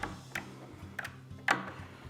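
A wrench tightens 13 mm bolts and nuts on a drum sander, giving a few sharp metallic ratcheting clicks spaced irregularly over a couple of seconds, close and fairly quiet.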